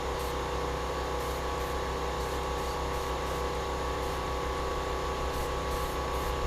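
Spray primer hissing in a continuous, even stream onto a 1956 Cooper Cyclo-Mo-18 mower deck being restored, close and steady throughout with no talk.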